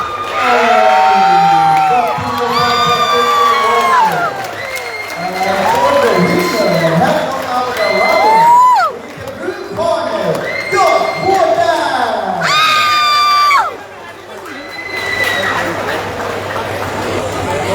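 At a Muay Thai bout in Patong boxing stadium, a loud crowd cheers and whoops continuously. Many voices rise and fall in chant-like shouts, with a brief dip partway through before the roar returns.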